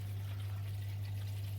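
Water runs steadily down a pipe in a twin-chamber CO2 reactor, a constant low trickling flow with a strong steady hum beneath it, close and unbroken, with no voices.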